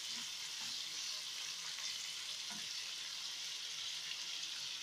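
Vegetables sautéing lightly in a pan give a continuous hissing sizzle at an even, moderate level throughout, steady and close with no voices.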